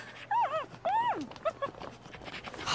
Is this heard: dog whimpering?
yes